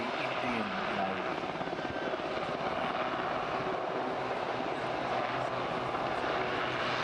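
A Westland Sea King HAR3 helicopter flies at an air festival, its rotor and engine producing a continuous, even, moderately loud chopping roar throughout.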